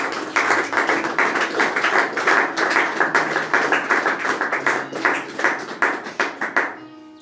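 A church congregation at a Sunday service claps together to acclaim the Lord, a loud, steady stream of rhythmic hand claps filling the room before fading out at the end, with no talking over them.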